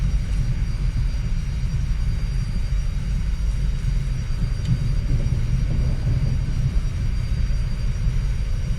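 An airplane taking off in the X-Plane 11 flight simulator, with a steady, loud, continuous low engine roar and rumble that holds even throughout, with no talking.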